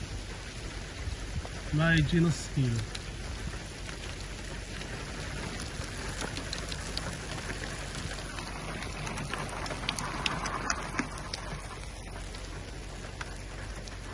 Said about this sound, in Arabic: المطر بدا يزيد الان ويقترب لنا